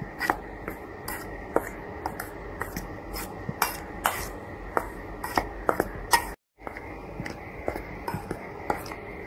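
Dry flour, cocoa powder, baking soda and a pinch of salt being mixed for an eggless chocolate cake, a steady scraping and rubbing with many short taps against the bowl, close and continuous with a brief pause near the end.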